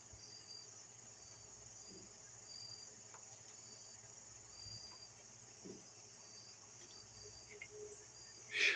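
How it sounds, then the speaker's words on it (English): Crickets chirp at night in a steady, high, continuous trill, faint and even throughout, with a few soft background thumps and a brief louder noise at the very end. "They like hearing all the crickets and frogs and other insects and bugs and such carrying on"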